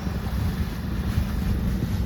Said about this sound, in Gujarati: પછી એક બોટ આગળ નીકળી અને અમારી બોટ વાંહે બધા હેરે જઈ રહ્યા છીએ